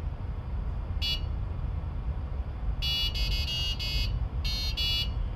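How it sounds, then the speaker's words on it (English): Passive buzzer driven by an Arduino beeping a short melody of separate tones, one isolated note then a quick run of several notes, close but fairly faint over steady low background hum. "Yeah, and that's how the buzzer is working."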